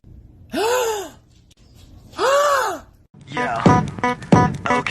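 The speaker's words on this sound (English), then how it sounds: "Gasp at your dog and see what they do. Gasp dramatically." A person gasps dramatically at a dog, two long, loud drawn-in gasps with rising and falling pitch, followed by a burst of excited vocal noises.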